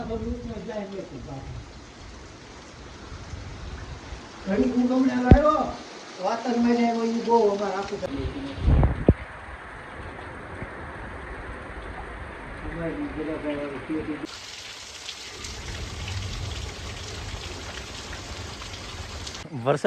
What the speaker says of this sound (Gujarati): હજે વરસાદ ચાલુ જ છે